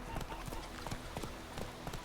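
Roach the horse running in The Witcher 3, quick repeated hoofbeats in a steady galloping rhythm over a low game hum, with a faint voice mixed in.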